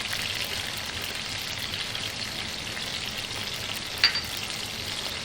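Hot pepper and capers frying in oil in a pan, a soft, steady sizzle with a brief clink near the end, fairly quiet and without talk.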